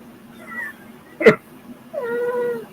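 A domestic cat indoors gives a short meow, then a sharp knock sounds, and a longer, drawn-out meow follows, close and moderately loud.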